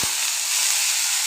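Potatoes frying in hot oil with cumin seeds in a pan, a steady bright hiss of sizzling, even and fairly loud throughout.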